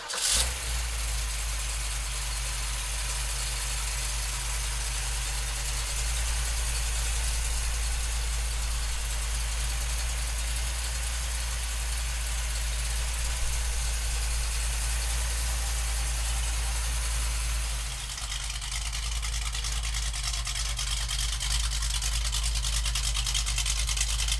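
A 1969 Ford Bronco with a 289 V8 cranks and fires with a sharp start, then settles into a loud, steady, close idle with a deep low throb, briefly dipping and picking up again near the end.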